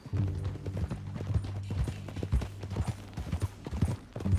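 Horse hooves clip-clopping at a steady riding gait in Red Dead Redemption 2, loud and close with a continuous low hum behind the rhythmic thuds.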